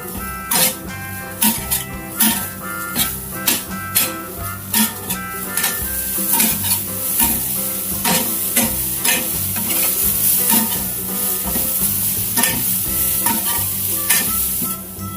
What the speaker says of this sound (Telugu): గ్రైండ్ చేసి పక్కన ఉంచుకున్న కొబ్బరి, పచ్చిమిర్చి మిశ్రమాన్ని యాడ్ చేసుకొని మరో నిమిషం పాటు వేయించుకోవాలి